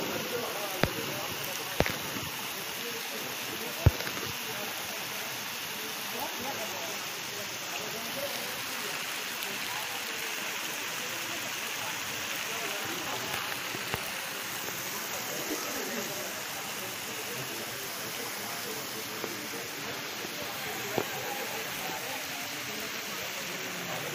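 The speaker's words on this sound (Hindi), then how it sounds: "बिन बादल बरसात मतलब ये सब नेचुरल" Water falling like rain into a palace pool in Udaipur: a continuous even hiss of spray and droplets, with a few sharp clicks and faint voices in the background.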